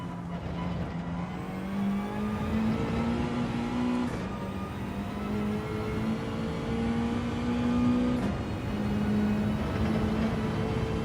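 A Mazda race car in Gran Turismo 7 holds a steady, droning engine note that climbs slowly through the gears, with two brief shifts, constant and fairly loud with no talking.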